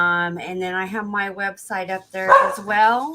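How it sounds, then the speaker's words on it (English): Dogs bark and yip in the background of a room while someone talks over them, the sharp barks breaking in between and under his speech. "Sorry for the dogs in the back"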